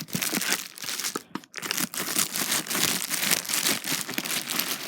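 Scissors cutting open a mail package, crisp crinkling and tearing of cardboard and tape with steady snips and rustles throughout, close and fairly loud, no talking.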